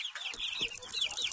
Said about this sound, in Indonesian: Anaklah ayam